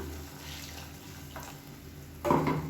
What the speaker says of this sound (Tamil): இப்போ இதில் தண்ணி சேர்த்துக்கலாம்.